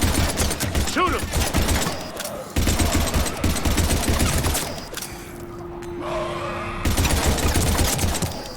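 Heavy automatic gunfire in the video game Mass Effect 3, loud rapid bursts, rattling almost continuously, pausing briefly for a lull with a sustained tone before the firing resumes.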